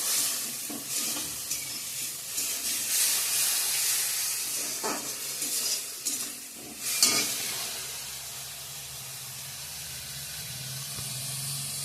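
Spice paste of tomato and chilli sizzling and frying in a pan while being stirred, a steady hiss with occasional scraping stir strokes and bursts of spatter, close and continuous throughout.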